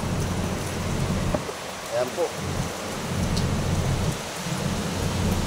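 Heavy rain pours in a strong typhoon, a dense, loud, continuous roar with gusting wind swelling and dipping, and someone speaks briefly over the storm.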